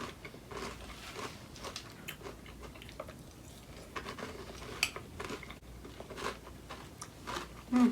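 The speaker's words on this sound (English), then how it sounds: "Let's hit a bit dry first." Dry Cap'n Crunch cereal with Halloween marshmallows is chewed up close, a quiet run of repeated crisp crunches in an uneven rhythm with no talking.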